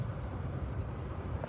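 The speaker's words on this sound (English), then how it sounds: "It's Toronto traffic." Road traffic in Toronto: a steady, low, continuous rumble of passing vehicles at moderate distance. No one speaks over it, and a faint brighter hiss rises briefly near the end.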